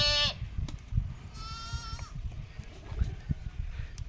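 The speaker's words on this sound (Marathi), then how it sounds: "अतिशय चांगल्या बांध्याची शेळी आहे मित्रांनो" A goat being shown for sale bleats, with a short sharp cry at the start and a longer wavering bleat midway, over a low rumble of handling and background noise.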